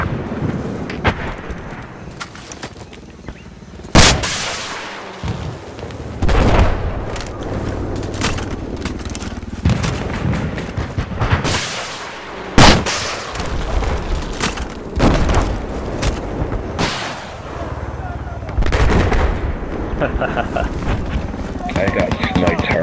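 Gunfire and heavy booming blasts in an online shooter game, loud irregular bursts and explosions spread across the scene, with players talking over the action.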